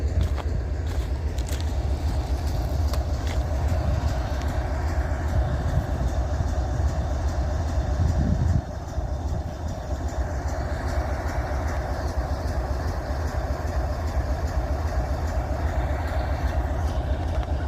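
A train rolls through Abbeville with a steady, heavy low rumble that runs unbroken for the whole stretch and dips only slightly partway through, with no voices.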